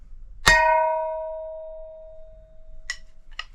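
A hard hammer blow on a brake drum gives a loud metallic clang that rings out and fades, followed by two brief clinks later.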